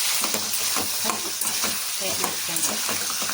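Mutton frying in oil for a home-style curry, a steady close sizzle broken by repeated scraping stirs of a spoon against the pan, with no talking.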